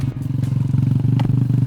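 Motorcycle engine running steadily at close range with a pulsing, rhythmic throb and some clatter, as a rider carries a passenger along on the bike.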